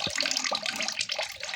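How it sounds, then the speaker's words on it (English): Soaked cassava being washed in a basin of water gives close, continuous sloshing and splashing with small knocks, steady and fairly quiet, with no talking. "after being soaked overnight, now we are washing it"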